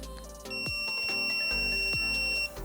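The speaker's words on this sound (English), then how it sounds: "get that long beep" A sustained high electronic beep from a tattoo machine power supply holds for about two seconds over a low background hum, starting and stopping cleanly.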